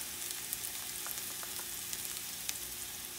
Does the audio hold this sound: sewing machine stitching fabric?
no